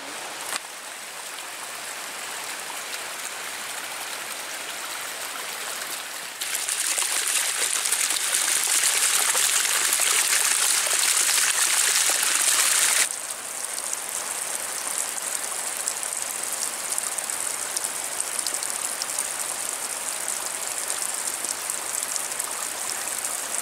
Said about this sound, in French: Et derrière là-bas, derrière Yvan, on a le ruisseau.